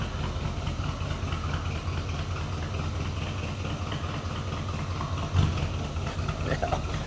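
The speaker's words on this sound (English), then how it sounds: "I just wanted to prove to you that it does actually start and run" A 1967 Pontiac 2+2 idling through its dual exhaust on old fuel, a steady low throbbing rumble with a slightly uneven beat, close and continuous, with a brief clunk near the end.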